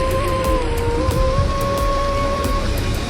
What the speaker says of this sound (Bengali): কিন্তু বেশি বৃষ্টি চলে এলো